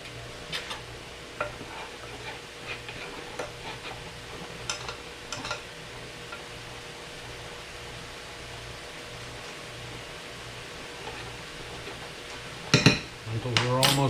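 Yellow lentils simmer in a pan while a utensil stirs them with soft scraping and a low sizzle, ending in a few louder clanks against the pan.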